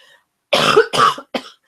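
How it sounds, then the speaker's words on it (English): A close, loud cough in two harsh bursts followed by a shorter third, with silence around them. "I knew that cough was going to come out eventually"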